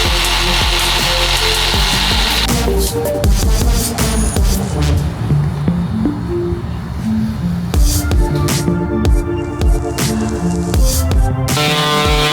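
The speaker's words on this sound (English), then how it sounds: "Everything is all cut and sanded." Wooden pieces for a living-room art project are cut and sanded with power tools, giving loud bursts of buzzing sawing and whirring sanding that stop and start over a dozen seconds, close and without speech.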